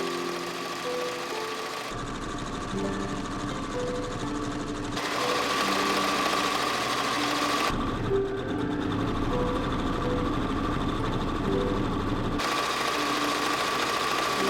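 A sewing machine runs steadily as it stitches fabric scraps, its whirring motor and rapid needle chatter continuing with a few shifts in pitch and intensity, close and fairly loud, with no speech.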